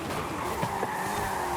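Brakes slam and tires skid on a car in the Forza Horizon racing game, a steady loud engine roar mixed with a sustained screeching squeal that runs unbroken through the whole moment.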